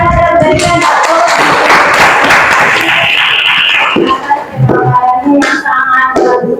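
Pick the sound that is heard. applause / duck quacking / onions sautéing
applause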